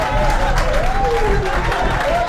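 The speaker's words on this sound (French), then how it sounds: "On applaudit bien." An audience at a team-building gathering applauds, a loud continuous patter of many hands, with a faint tonal sound winding underneath.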